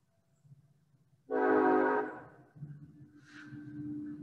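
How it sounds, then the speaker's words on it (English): A train passes close to the tracks, sounding one loud horn blast of about a second, followed by a steady rolling rumble of railcars that continues to the end. "We'll pause for a moment while the train gets by me."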